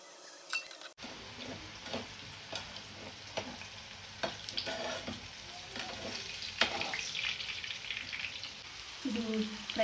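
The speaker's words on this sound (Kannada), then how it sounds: "ಇದು ಫ್ರೈ ಆಗ್ತಾ ಇದೆ" Pakoda frying in hot oil, a soft continuous sizzle with occasional utensil taps and stirring scrapes, moderately close but quiet, no voices.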